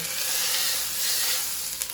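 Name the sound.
beef searing in olive oil sizzling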